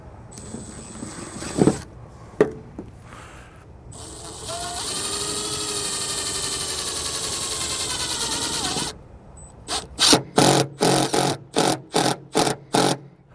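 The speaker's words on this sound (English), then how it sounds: "we're going to screw it down through the bead, locking it in place" A self-tapping screw is driven with a power driver through the bead of a Solera 12V power RV awning on a 2017 race trailer: a sustained motor whir for several seconds, then a run of short rapid bursts as it seats.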